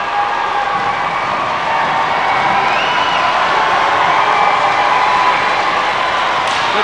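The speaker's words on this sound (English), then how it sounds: "The crowd showing their appreciation" Spectators in Kent cheer and applaud after England's 2–0 win over Holland, a loud, sustained roar of clapping, whoops and shouts that swells slightly midway and carries on without a break.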